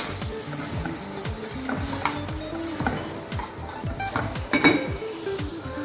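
Vegetables cooking in a pan for soba noodles with oyster sauce, with water added: a steady close sizzle and hiss under repeated stirring scrapes and light clinks of a utensil against the pan, with no talking.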